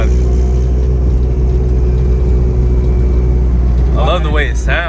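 A turbocharged Honda Civic running 20 lbs of boost cruises on the highway with a loud, steady engine drone and turbo whine filling the cabin, then a voice briefly talks over it near the end.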